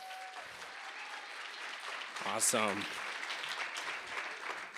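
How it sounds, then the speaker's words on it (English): An audience at a workplace talk applauds a speaker named Sarah. A steady wash of clapping runs throughout, with a brief spoken exclamation over it. "Can we give her a round of applause?"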